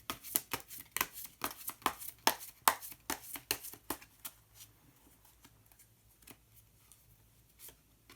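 Tarot cards shuffle with a run of quick crisp riffles and flicks, loud at first and then fading into softer, sparser card handling near and close by in a quiet room.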